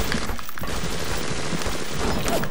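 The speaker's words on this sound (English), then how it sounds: "I still got the pistol, maybe this will help. Gotta give him a good headshot." Pistol gunshots in BioShock, a dense stretch of repeated shots and crashes over a steady din of game combat, with little talking.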